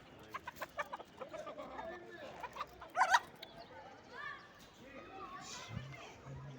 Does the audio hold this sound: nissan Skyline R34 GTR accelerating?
no